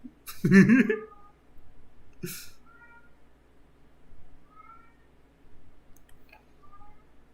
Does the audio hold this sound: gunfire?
no